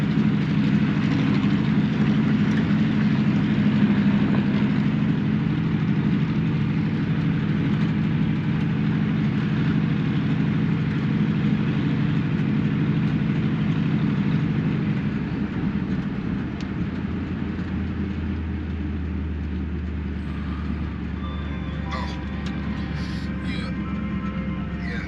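A 1964 Impala lowrider cruising neighborhood streets gives a steady loud engine and road rumble with ongoing rattle, the drone dropping to a lower idle-like hum in the last ten seconds.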